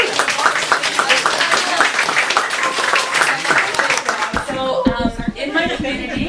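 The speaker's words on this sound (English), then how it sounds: "Give yourselves a round of applause." An audience at a festival performance claps in a dense round of applause, heard close and steady, with voices and laughter mixed in. Near the end the clapping thins as talk begins.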